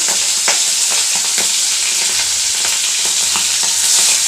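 Prawns crackle and sizzle steadily in hot oil in a pan while cooking with jute leaves, with dense, loud frying hiss and frequent sharp pops throughout, heard close up without any talk.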